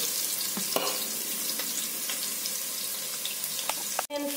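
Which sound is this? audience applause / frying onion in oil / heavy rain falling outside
frying onion in oil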